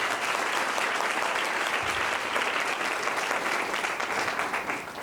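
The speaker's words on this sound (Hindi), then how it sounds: "क्यों ना हम जोरदार तक ताली बजाएं प्रभु की" A church congregation at a Pentecostal anniversary service claps loudly and steadily, a dense sustained roar of many hands that continues throughout, with no break.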